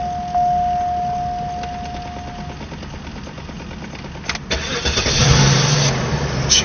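A Cadillac DeVille engine cranks and fires to life up close, preceded by a steady electronic chime, then catches into a loud, rumbling idle with a brief rev near the end; no one speaks.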